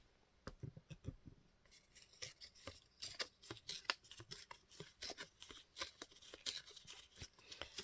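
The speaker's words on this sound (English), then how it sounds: "I'm going to actually rip all four sides, so it is all uniform." Paper ripped by hand along all four sides of a sheet for a journal page, a series of close, crisp tearing bursts and crackles in an uneven rhythm with no voices.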